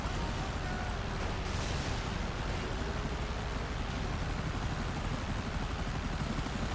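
Helicopters in GTA Online drone with a continuous, dense rotor roar that stays steady and loud throughout, with no talk over it.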